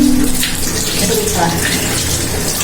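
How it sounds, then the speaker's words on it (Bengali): Water runs steadily from a tap while dishes and a face are washed, a continuous close splashing rush with faint voices underneath. "ইতিমধ্যেই তার বাসন ধোয়া হয়ে যাচ্ছে তিনি মুখ ধুয়ে নিলেন"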